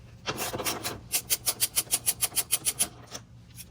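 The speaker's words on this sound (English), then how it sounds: "The 10s first, we're going to ratchet. Go ahead and take those out." A ratchet spins in quick rhythmic clicks as 10 mm bolts are backed out during a car DRL install, about a dozen even, close rasping strokes in a quiet space.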